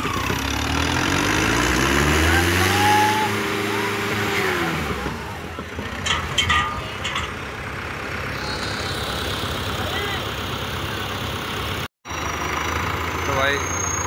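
A Mahindra 595 Turbo tractor engine idles and revs during testing, its pitch rising and falling loudly close by, while people talk over the rumble.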